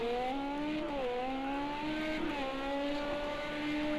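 A Toyota Le Mans race car engine in a racing video game holds a steady high-pitched drone, with brief dips in pitch as it shifts or lifts and then climbs again, loud and continuous without talk.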